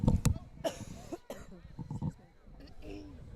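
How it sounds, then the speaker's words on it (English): A couple of sharp coughs close to the mic from a high school football playoff commentator, followed by a voice talking and some rustling. "I had to cough."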